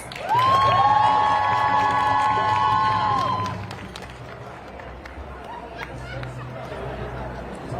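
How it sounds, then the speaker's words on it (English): A rally crowd calling for a ceasefire in Palestine cheers and claps, with a loud sustained horn-like tone ringing over them for about three seconds before the noise settles into a softer, ongoing murmur of applause. "Please give him a round of applause"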